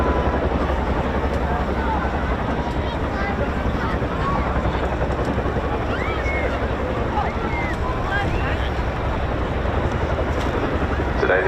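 A Chinook helicopter roars steadily at an RAF Cosford air show during a simulated weapons drop-off, a dense continuous rotor and engine wash with wind buffeting, while a commentator's voice runs faintly underneath.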